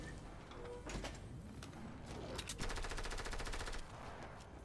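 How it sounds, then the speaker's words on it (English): Gunfire in the video game Fortnite: a few scattered shots followed by a rapid burst of automatic fire, fairly close and loud, with no talking. "Oh, I hear gunshots."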